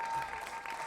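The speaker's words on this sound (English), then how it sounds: "Everybody, please clap loud for our friends" An audience claps for a bluegrass band at a 2012 show in Niles, a steady dense applause that fills the whole second with no voices over it.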